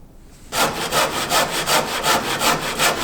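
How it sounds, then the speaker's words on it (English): A saw blade cuts through a wooden roof batten, starting abruptly after a short quiet lead-in, then a steady, close rasping of rhythmic back-and-forth strokes that runs to the end. "we just put a saw blade through here and run the same saw blade through here"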